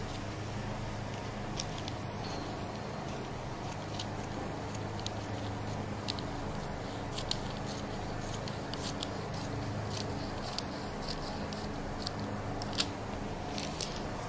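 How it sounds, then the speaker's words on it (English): Scissors snip repeatedly through fabric while cutting out the waist of an A-line flared skirt, a steady series of small crisp cuts over a quiet room hum, with no talking. "so all we need to do is cut out the waist."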